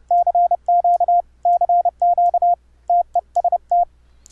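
Morse code sidetone keyed through iambic CW paddles with a Morse keyer program, a clean steady tone in quick bursts of dots and dashes grouped into characters with short gaps, heard alone and close.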